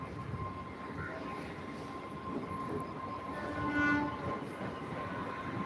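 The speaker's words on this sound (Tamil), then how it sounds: "செங்கல்பட்டுக்கு அடுத்த லோக்கல் ட்ரெயின் வருகிறது." A local commuter train bound for Chengalpattu rumbles into a station at steady volume, rails and wagons droning, with a brief tonal horn sounding near the end.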